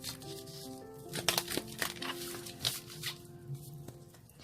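Tarot cards are shuffled by hand in a few quick bursts of papery riffling and crackling, close and fairly soft, with steady background music tones underneath.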